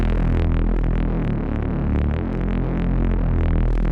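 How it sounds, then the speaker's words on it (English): A distorted Reese bass synth patch from Serum drones as a thick, buzzing low tone that throbs steadily and stays loud and unbroken throughout, heard alone. "Now you can also apply distortion at this point."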